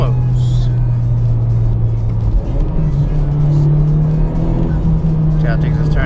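A Honda Civic Type R on Sumitomo all-season tires takes a corner. A steady engine drone and road roar fill the cabin, with the pitch rising slightly through the turn as a person talks over it.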